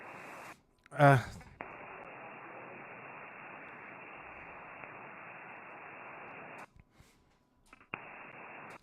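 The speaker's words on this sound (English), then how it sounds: "I copied really weak. Tango 9 station. Very weak signal." A very weak amateur radio signal on the 20-meter band, a steady wash of hiss and static running for several seconds between brief breaks, with a short burst of faint tonal sound near the start.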